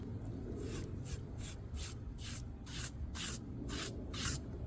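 Scraping cooked slime from catfish skin: a rhythmic series of about nine bright, brushy scrapes at a steady pace, close and moderately loud over a low background rumble.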